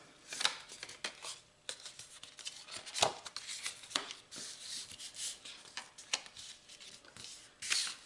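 Scored card stock panels being folded back by hand, giving soft papery rubs and crisp creasing snaps at irregular intervals, close and fairly quiet, with no talk.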